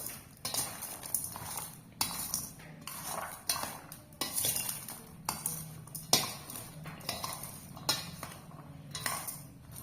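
Salt being mixed by hand into cut mango pieces for pickle, giving repeated close scraping and clinking strokes in an uneven rhythm, with no talking.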